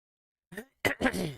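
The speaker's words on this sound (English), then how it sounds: "I really gotta clear my throat." A man clears his throat close to the microphone in two short rough bursts, a brief one followed by a longer rasping one after a short pause.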